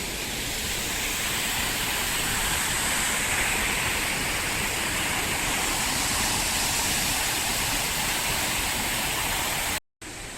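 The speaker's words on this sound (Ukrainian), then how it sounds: "Глінкар водоспад." Glencar Waterfall in County Sligo, Ireland, roars steadily and pours continuously, a dense broadband rush with no pauses.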